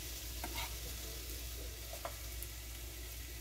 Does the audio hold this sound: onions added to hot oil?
yes